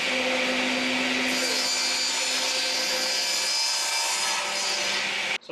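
A 14-inch table saw blade whines steadily as it cuts through the end of a wooden board held on a crosscut sled, loud and continuous before spinning down abruptly at the finish.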